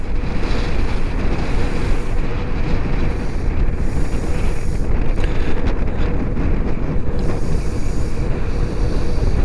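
Loud wind on the coast near Cap Blanc-Nez roars and buffets the microphone continuously, a dense low rumble with faint whitecapped sea noise underneath and no speech.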